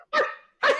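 Two loud, close dog barks, one after the other with a short gap between them; no other sounds.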